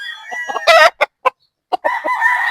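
A three-year-old sweater gamefowl rooster crows loudly and close by, with clucks and short calls breaking up the crow.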